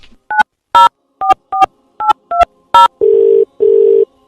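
A telephone keypad sends a quick series of eight crisp, loud dialing beeps at irregular short gaps while a call is redialed, followed by two longer, lower steady tones. No voices are heard.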